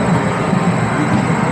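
A wooden shuttle roller coaster train runs along its track at the Switchback, a loud, steady rumbling roar with dense rattling, heard close from on board and continuous throughout.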